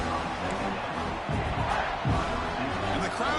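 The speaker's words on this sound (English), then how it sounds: "And the crowd coming to life here" Stadium crowd at an American football game roars and swells as the home defense digs in near the red zone, a dense continuous din with surging cheers rising around the middle.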